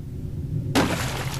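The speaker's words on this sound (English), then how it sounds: "I accidentally kicked over a bucket, spilling its contents onto the ground in front of me." A bucket is kicked over in the horror video game Corpse Party, giving a sudden clattering crash and splash partway through, with its contents spilling and scattering onto the ground after a quiet low rumble.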